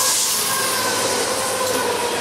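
A freight sand train led by BNSF locomotives rolls past on the Chicago Line, a loud, continuous rumble of wheels and rail noise with a high squealing edge, close by and steady.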